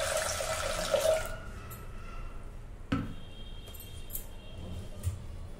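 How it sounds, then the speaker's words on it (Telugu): Water pours into a pot already holding milk for masala chai, a close splashing gush for about a second, then quieter kitchen clinks and faint movement. "ఇప్పుడు కొంచెం వాటర్ పోసుకుందాం."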